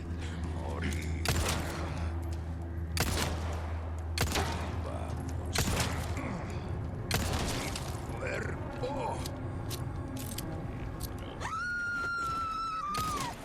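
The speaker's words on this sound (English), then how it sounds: "And then you can get some easy shots in." Gunfire in Resident Evil 4 Remake, several loud separate shots spaced a second or two apart over game ambience, with a rising mechanical wail near the end.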